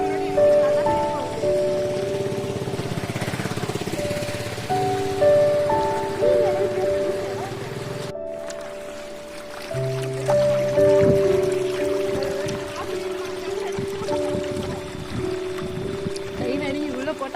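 Steady rain patters outdoors in Chennai on a rainy day while people walk through it, a continuous wash of drops with tonal background sounds and voices talking over it throughout.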